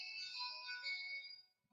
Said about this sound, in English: oh, there's a phone call coming.